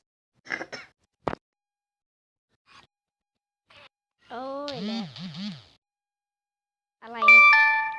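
A short LINE app message notification chime with stacked bright tones rings out near the end, after brief voice fragments and a sharp click earlier.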